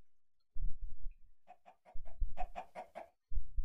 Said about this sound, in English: Actually, there's a lot of chickens over here,